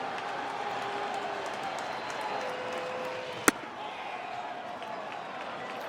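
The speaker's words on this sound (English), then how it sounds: "Crowd is quiet." A quiet baseball stadium crowd at a Dodgers vs Phillies game murmurs steadily at low level in the distance, with one sharp isolated crack partway through.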